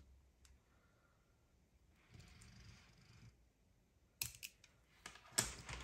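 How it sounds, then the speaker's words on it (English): Scissors trim a bead cord during a kids' pony-bead octopus craft, with a couple of sharp, close snips near the end after quiet rustling. "I'm gonna go ahead and trim this down"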